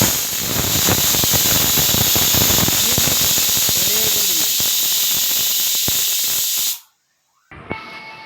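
A pressure cooker cooking green peas blasts loud, continuous hissing steam with a sputtering edge. It cuts off abruptly near the end, followed by a short clink and faint kitchen sounds.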